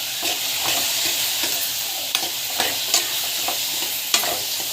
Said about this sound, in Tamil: நல்லா வந்து வதக்கிட்டுக்கோங்க. நல்லா வந்து வதக்கிக்கணும்.